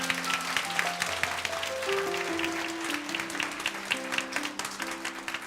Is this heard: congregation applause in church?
yes